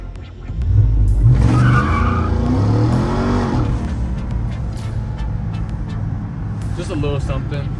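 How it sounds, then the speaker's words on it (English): A RAM TRX truck doing a launch control start, a loud engine roar with tire squeal as it pulls away, followed by a sustained road drone while people talk over it. "we're gonna hit a launch control right here"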